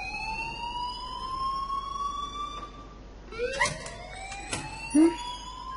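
An alarm wails in the video game Life Is Strange, a steady rising siren tone followed by a few short swooping whoops and clicks, fairly clear with no talk over it.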